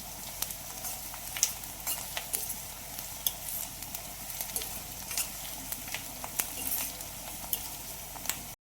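Chopped onions fry in a pan over a medium flame for paneer bhurji, a steady close sizzle with frequent scraping and clinks of a spoon stirring against the pan, no voices.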